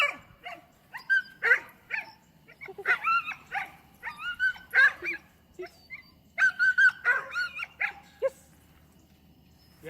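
A dog-aggressive pit bull barks, yips and whimpers in repeated bursts across the whole stretch, fairly close and clear, with brief pauses between volleys.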